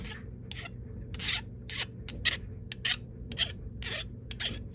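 A file rasps off the burr on a brass case in short, repeated strokes, each a crisp scraping burst with brief pauses between, close up and with no talk over it.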